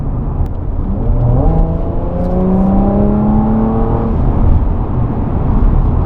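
A 2018 Audi RS4 engine revs loudly and deeply, its pitch climbing and holding as the throttle is pressed, then settling back into a steady rumble.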